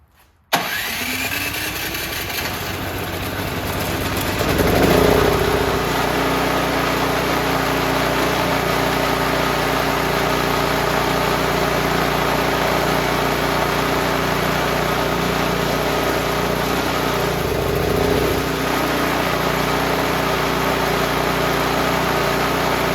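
A Toro Power Clear 621 QZE snowblower, fitted with a replacement carburetor, fires up on its electric starter after a brief crank. It settles into a steady, loud, close idle that holds for about twenty seconds, with a slight surge near the middle.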